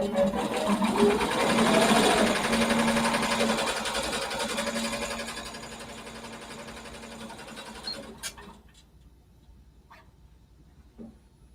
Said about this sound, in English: the machine will now start sewing out 52 copies of the patches without me having to do anything